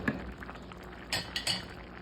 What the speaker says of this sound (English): We're just going to put the top on